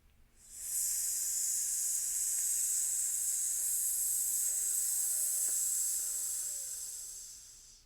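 A person makes a long, steady hissing S sound with the breath, imitating sizzling. The hiss is close and even, sustained for about seven seconds, and fades slightly at the end.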